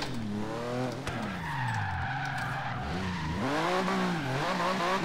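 A 1995 Porsche 911 GT2 drifts in Forza Horizon 3, its tires squealing in long wavering skids while the engine revs rise and fall, loud and close with no voices.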